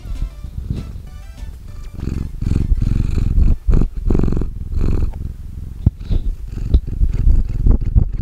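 Cats purr loudly and close up, a rough rumbling purr in rhythmic pulses that rise and fall with each breath, continuing steadily with no talk.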